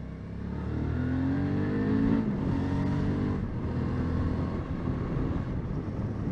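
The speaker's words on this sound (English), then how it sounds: "Oh, the old Cortina," An old Ford Cortina car passing on the road, a loud steady engine rumble and tyre roar swelling close by and then easing away, with no talking.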